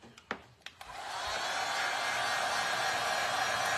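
A hair dryer switching on to dry stencil paint, preceded by a few sharp clicks and taps, then a steady close whooshing blow that holds to the end.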